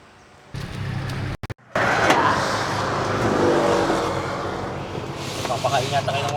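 A motorized tricycle engine drives along with a steady, loud, close rumble that rises slightly, while people talk over it.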